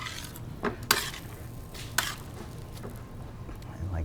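Creamy cacio e pepe pasta stirred in a pan, with soft wet squishing and scattered clinks of utensil against metal, faint and close, under a low background.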